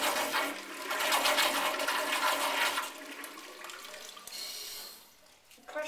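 An American Standard Instanto toilet from 1986–1993 flushes nearby with a loud rushing swirl of water, which then tapers into quieter refilling trickles and a gurgle toward the end.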